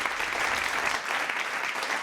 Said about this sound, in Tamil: வாங்க கைத்தட்டி வர கூப்பிடுங்க